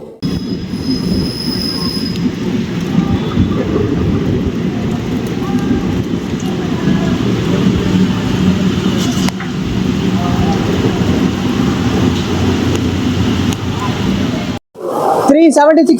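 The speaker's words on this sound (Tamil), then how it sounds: "அப்படி ஒரு மழைங்க, செம்மையா பெஞ்சுக்கிட்டு இருக்கு" Heavy rain heard from inside the Circar Express moving between Puducherry and Kakinada Port, a steady loud roar of wheels and carriage rumble blended with rain, continuous for the whole stretch before cutting out briefly near the end.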